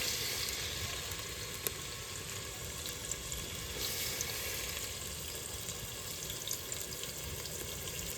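Chopped onions sizzle and fry in hot oil in a home kitchen, a steady dense crackling hiss close by that runs without a break.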